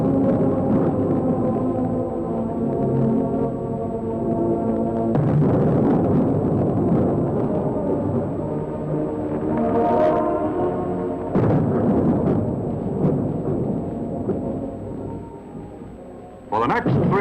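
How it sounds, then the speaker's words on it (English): Massed cannons fire a salute at Joseph Stalin's state funeral, thirty guns loosing ten salvos a minute: heavy, booming blasts several seconds apart ring over a dense, sustained background of tones. "Massed cannons fire a final salute."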